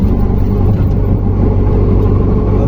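A four-wheeler off-road vehicle engine rumbles loud and close, a steady low drone with no pauses and no voices.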